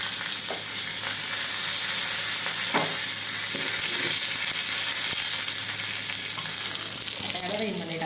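Mustard seeds, cumin, chili and curry leaves sizzle and crackle steadily in hot oil, a bright continuous frying hiss with occasional pops and stirring scrapes near the end.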